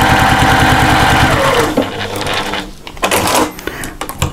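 A sewing machine stay-stitches a pocket onto a fabric wallet with a rapid, steady run of stitches up close, then stops and gives way to fabric handling and light clatter.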